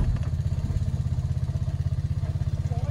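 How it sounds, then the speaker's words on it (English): A quad bike's engine runs close by with a steady, rapid low chugging pulse throughout, loud and even, with no talk over it. "It's coming so handy, that quad bike."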